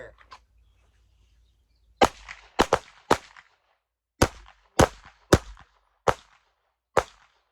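Gunshots fired during defensive firearm training at an outdoor range, about nine sharp, fairly distant cracks in a few quick clusters separated by short pauses, with quiet in between.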